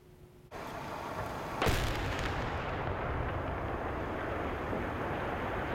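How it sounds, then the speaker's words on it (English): A sudden deep boom gives way to a sharp crack and then a sustained, rumbling roar of a large steel plant building collapsing in demolition in the distance. "That's the sound of a plant that was such a big part of the region coming down."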